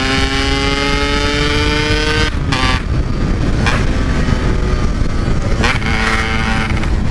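A Yamaha RX King two-stroke motorcycle revs hard on the road, its high rising whine climbing in pitch and then dropping in sudden gear-shift breaks before building again, loud and close throughout.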